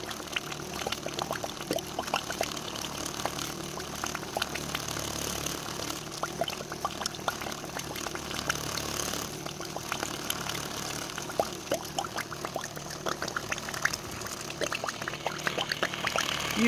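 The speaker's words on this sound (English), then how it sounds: "Longer spurts between glugs. That's how you know it's working." A water pump pushes water through an IBC tote thermosiphon, giving a steady watery pouring rush with irregular glugs and gurgles as air works through the line, a faint motor hum underneath, and no voices.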